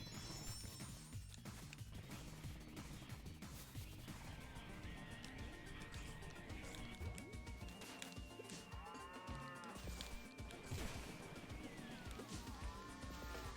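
Cows mooing in a video game run, several drawn-out moos over a busy, constant backdrop of game music and effects, moderately loud throughout.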